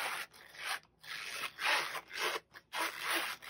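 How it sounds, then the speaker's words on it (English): A zipper is pulled along a budget cash envelope wallet in several short, raspy strokes separated by brief pauses, heard close up and fairly quiet. "so let's go ahead and zip it up"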